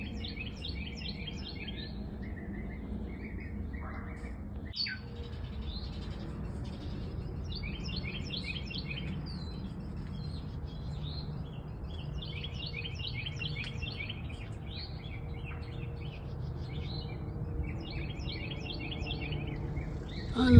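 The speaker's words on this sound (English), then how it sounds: "I love to hear the birds sing." Small birds singing outdoors, repeated bright chirping phrases coming in bursts over a low steady background rumble, fairly close and clear.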